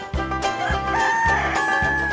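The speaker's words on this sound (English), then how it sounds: "Rooster," A rooster crowing up close, a loud stretched call backed by a regular pulsing beat, with no talking.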